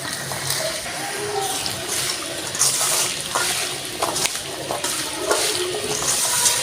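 Washed potatoes tumble into a hot pan and get stirred, with steady sizzling and frying under repeated scraping and clinking of the spoon, close and fairly loud throughout.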